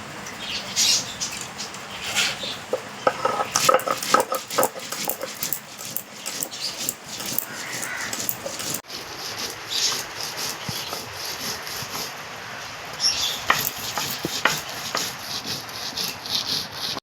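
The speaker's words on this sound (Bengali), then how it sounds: "এবার আমি শিলে বেটে নেবো চালগুলোকে ছেঁকে নেই" Soaked rice is ground on a flat stone slab, producing repeated close rubbing and scraping strokes in an uneven rhythm, with gritty friction continuing throughout.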